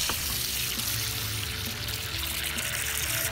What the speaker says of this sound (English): you'll get to see the very first water they run through this machine since I've got it